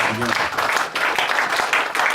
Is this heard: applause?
yes